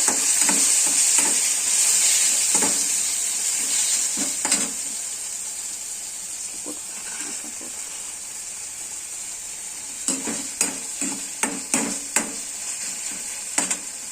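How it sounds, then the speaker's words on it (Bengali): Masala frying in a pan for coriander chicken, with boiled, roasted wood apple added to it, gives a loud, steady hiss. A spatula scrapes and clinks against the pan in irregular strokes, with a quick run of knocks near the end. "মশলাটা একটু ভালো নাড়িয়ে নেব"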